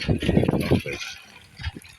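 Water flows and splashes at a mountain spot, a close liquid gush that is loudest at first, then fades to a lighter trickle with brief surges near the end.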